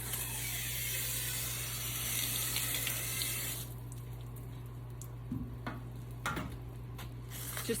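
Water poured from a watering can onto soil in a planter, a steady soft splashing shower for several seconds that then stops, leaving a low hum and a few faint knocks and drips.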